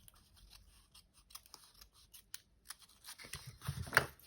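Scissors snip through refolded paper while trimming a journal page, a string of quiet, close cuts that grow louder and denser toward the end, with no talk.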